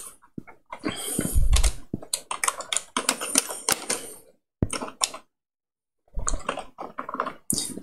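Rapid bursts of typing on a computer keyboard while entering code for a PIC12F1822 microcontroller program, with clusters of close, crisp key clicks separated by brief pauses and no talking.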